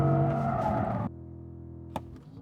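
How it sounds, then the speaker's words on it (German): An Audi R8 on a race track pulls away under hard acceleration, its engine note loud and close. The sound is continuous for about a second, then drops to a steadier, quieter drone with a brief sharp peak near the end. "jetzt gehe ich aufs Gas, siehst du das, wie der wegzieht?"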